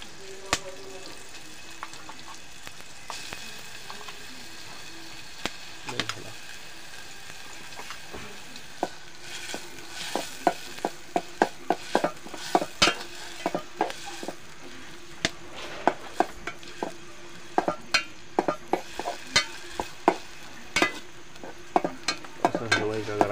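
Ground wet masala sizzles and fries in a pan for a Kokan village chicken dish, a continuous low hiss broken by sharp clattering scrapes and knocks of stirring that grow frequent later, with no talking.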